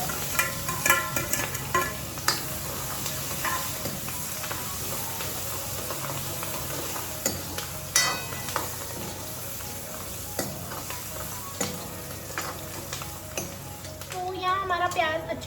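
Onion and green chili fry in a pan with ginger and bay leaf, a faint steady sizzle under scattered clicks and stirring scrapes of a utensil, close by.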